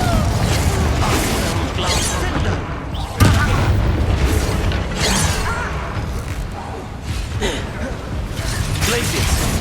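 Confringo spell blasts in the Hogwarts Legacy video game boom repeatedly amid busy combat effects, with a sharp loud burst partway through and a voice shouting spell names over the action.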